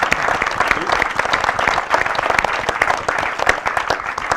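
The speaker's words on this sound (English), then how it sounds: "So a round of applause." A panel discussion audience on nutrition applauds in a dense, sustained burst of many hands clapping, loud and steady throughout with no voices standing out.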